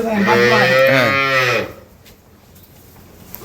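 A dairy cow on a farm lets out one long, loud, close moo that stops abruptly, leaving quiet background.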